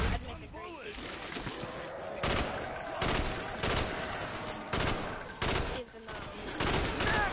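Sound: gunfire in video game Call of Duty Black Ops zombies

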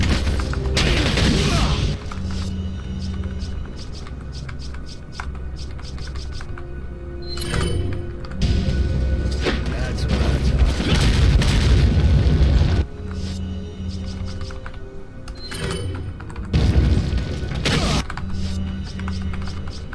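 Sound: flash grenades exploding in video game Resident Evil 4

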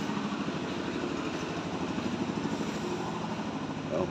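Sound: motorcycle engine running

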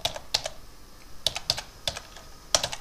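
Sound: typing on a computer keyboard

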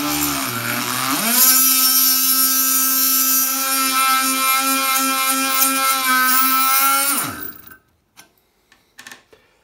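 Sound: drill countersinking a traditional hookah

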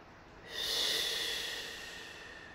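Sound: deep breath

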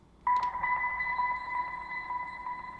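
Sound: slowed dolphin squeak with reverb and delay

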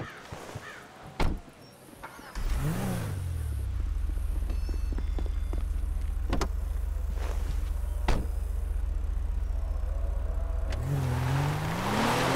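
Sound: car driving in Grand Theft Auto 5 video game

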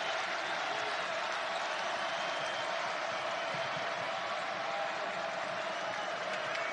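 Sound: crowd cheering at basketball game

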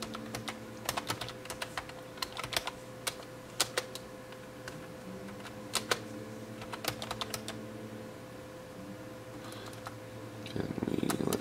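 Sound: typing on a computer keyboard

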